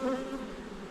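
Honeybees buzz loudly and continuously right at the ear during a feisty hive inspection, a dense, wavering drone from agitated insects close by.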